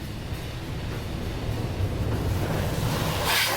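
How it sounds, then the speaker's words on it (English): A car wash water blaster sprays over a Jeep's Bestop hardtop, heard from inside as a steady, loud broadband hiss and roar that builds slightly and surges near the end. "here comes the water blaster. It's on the windshield."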